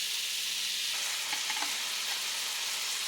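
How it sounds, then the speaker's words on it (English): Breakfast sausage browns in a pan with a steady, close sizzle and frying crackle, plus a few faint stirring clinks partway through. "Now that we've got this all broken up, I'm going to let it just start browning up."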